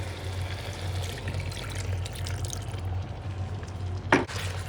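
Water goes into chilli chicken curry in a cooking pan as a soft, steady pouring wash beneath a low kitchen hum, ending in a sharp, brief clink of a utensil near the end.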